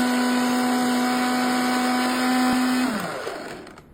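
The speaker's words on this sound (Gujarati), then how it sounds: "સિંગ ભજીયાને મિક્સરના ડબ્બામાં એડ કરીને સારી રીતે પીલી લઈશું" A kitchen mixer grinder whirs loudly and steadily while grinding peanut bhujia in its jar, its high motor whine holding for nearly three seconds before switching off and dropping in pitch as it winds down.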